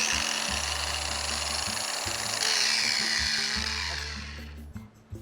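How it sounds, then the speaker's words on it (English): An 18-volt Ryobi ZRP421 cordless angle grinder, refurbished, running with a steady high whine that shifts pitch midway, then spins down and fades near the end, with a couple of clunks and no talk. "the Ryobi ZRP421. An 18-volt angle grinder."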